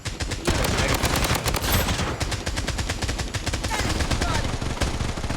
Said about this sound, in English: গুলি চালাই